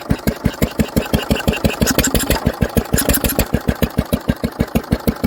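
A Lister CS diesel engine runs on its first start in years, a steady, loud, evenly spaced thump of single-cylinder firing, close and alone with no voices over it.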